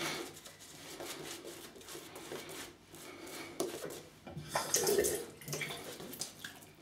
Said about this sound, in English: Just a bit of water there.